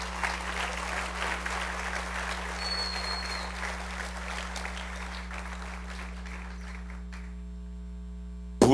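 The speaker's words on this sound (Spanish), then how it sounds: "Dale un aplauso bien fuerte al Rey" Congregation at a church gathering applauds loudly and steadily, a dense wash of clapping over a constant low electrical hum, thinning near the end before a sudden bump.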